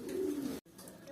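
A fantail pigeon from a breeding pair gives a soft, low coo, close and fairly quiet, with a brief pause before the faint call trails on.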